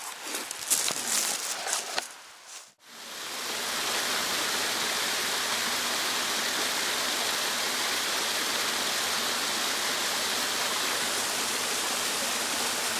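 Steady rushing of a river flowing over rocks near an old quarry site in the hills of Ena, Gifu, loud and continuous after a brief stretch of footsteps and rustling at the start.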